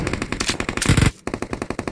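Rapid automatic gunfire in PUBG Mobile, a fast burst of sharp shots, a short pause, then another steady burst, loud and close with no talk.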